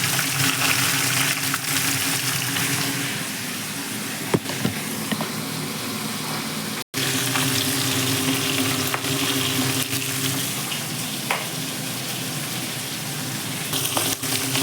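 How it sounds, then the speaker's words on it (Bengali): Catla fish heads seasoned with salt and turmeric fry in a pan, giving a loud, steady sizzle with occasional ticks and stirring knocks, close by and without speech, broken by one brief cut midway. "মাথাগুলো ভাজা হচ্ছে"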